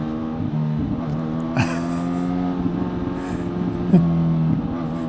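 A 2025 Honda CB1000 Hornet SP rides along in first gear, its engine droning steadily and close with a couple of brief throttle swells, and no voices.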